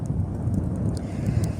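Strong wind on the sea coast buffets the microphone in a continuous low rumble, with faint clicks and a few brief higher hisses above it.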